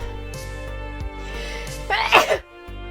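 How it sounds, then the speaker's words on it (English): A single sharp, loud sneeze bursts out near the end, in a crowded convention hall. It comes after a quiet, steady stretch and is followed by a sudden drop to near silence. "I have to sneeze."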